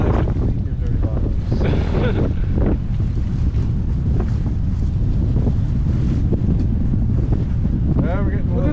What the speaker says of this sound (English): we're getting a little more wind